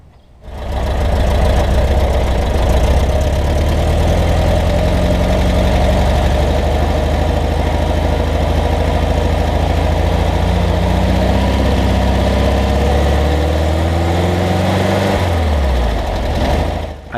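A 1970 Volkswagen Type 3 Fastback engine idles steadily with a low, rumbling, slightly knocking drone that holds for a long stretch, close by and loud.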